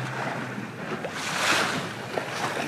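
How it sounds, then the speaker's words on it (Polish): Whitecap waves slapping around a MacGregor 22 sailboat out on Chesapeake Bay, a continuous wash of water and wind noise with a swelling surge in the middle, close to the hull and with no talking. "Pokażemy troszeczkę fale Whitecaps."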